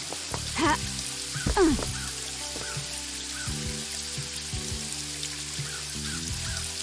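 Rain patters softly and steadily in the video game Paradise Killer, a faint hiss running beneath sustained synth music tones.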